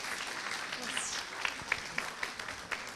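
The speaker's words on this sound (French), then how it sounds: "applaudissez-la, s'il vous plaît" A student audience at the IUT de Troyes claps for a student, a short, modest burst of scattered hand claps, fairly close, with a voice talking over it.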